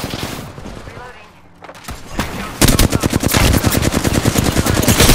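Rapid automatic gunfire in Apex Legends, loud and close, starting after a quieter stretch and continuing in dense bursts to the end, with shots striking the player.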